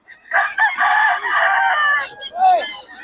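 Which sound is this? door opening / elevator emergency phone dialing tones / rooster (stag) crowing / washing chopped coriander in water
rooster (stag) crowing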